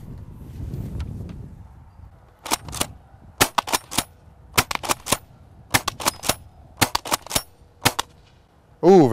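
UTG Multishot airsoft shotgun firing 0.25 gram bio BBs outdoors, sharp close snapping shots in rapid clusters of two to four, separated by short pauses, with a short voice at the end.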